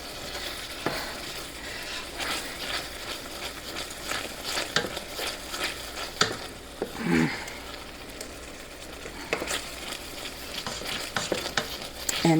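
Pork chops fry in a pan as a utensil scrapes browned bits off the bottom, a soft steady sizzle broken by irregular close scraping and metal taps, no voices.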